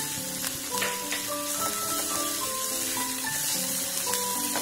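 Green chillies and ginger hit hot oil in a frying pan, crackling and sizzling loudly and steadily up close, with faint stirring and no talk.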